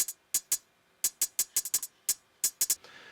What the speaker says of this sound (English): There's some hi-hats that come in to sort of lift the beat later on